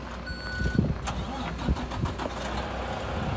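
A 2013 Mack Pinnacle CXU613 truck engine cranks and fires up, with a few sharp mechanical clunks before settling into a steady diesel idle, heard close with faint beeping in the background.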